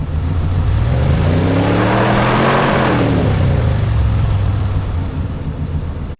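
A car engine revs up loudly, pitch sweeping upward then falling back, a continuous close roar for several seconds before cutting off abruptly.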